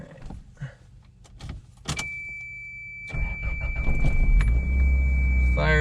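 An old car bought cheap at a salvage auction cranks and fires up after a few clicks and key rattles, settling into a steady, close idle rumble with a faint whine above it.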